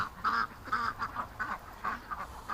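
A few ducks quack close by in a rapid series of short nasal calls, several bursts in quick succession while grazing on grass, including a bulging-eyed duck and a very small young one.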